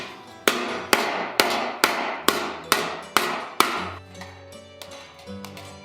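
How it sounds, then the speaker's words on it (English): A hammer strikes a bronze sheet being shaped into a Greek breastplate, eight sharp, evenly spaced metallic blows ringing close and alone, then lighter, quicker taps. "hammer here to just kind of push that metal forward into the direction that I want."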